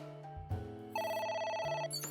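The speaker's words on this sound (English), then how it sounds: "Another call. It's ringing again." A telephone rings in the video game AI: The Somnium Files, a bright electronic trill sustained for about a second over a low synth background tone, clear and moderately loud.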